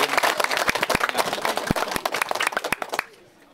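An audience claps for a few seconds at a community event, uneven sharp claps fading out abruptly at the end.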